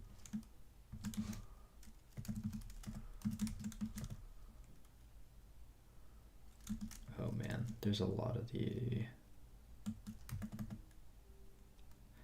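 Computer keyboard keys clatter in quick bursts of clicks with pauses between, close and moderately loud, while a person speaks briefly in the middle.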